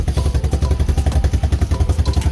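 A Lifan 165FMM pit bike engine idling just after a cold start, close and loud, with a fast even chugging thump and mechanical clatter holding steady, no voices.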